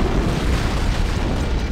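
An antimatter charge explodes aboard a ship in the Halo video game, heard as a dense, sustained low rumbling boom that stays loud and steady throughout, with no voices over it.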